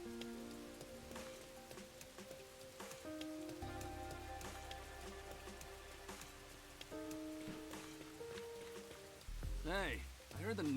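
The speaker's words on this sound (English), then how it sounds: "Oh, but this one's stuck in the rain." Steady, soft rain falling in a Rain Code game cutscene, a faint continuous patter beneath background music, with a louder swelling effect near the end.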